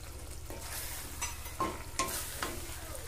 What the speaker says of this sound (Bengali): মশলা সহ সবজি খুব ভালো করে কষাবো।